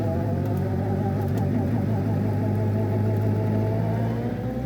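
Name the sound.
MK Indy Sport 200 car with Suzuki Hayabusa engine driving on road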